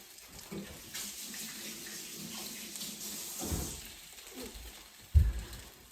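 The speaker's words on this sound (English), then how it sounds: "I'm gonna wash my hands again" Hands washed under a running kitchen tap while making French toast sticks, a steady close hiss of flowing water with a louder splash near the end.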